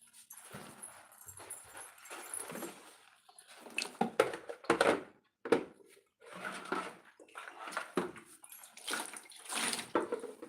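Hands being washed under running water: a splashing stream heard in uneven bursts with wet rubbing and a few louder gushes, close by, with no talking.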